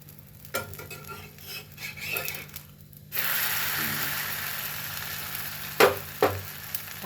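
A pua, a sweet pancake, frying in ghee in a pan: a quiet stir and scrape at first, then a loud, steady sizzle after it is flipped, with a few sharp utensil knocks near the end.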